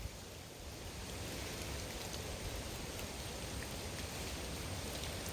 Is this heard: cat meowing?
no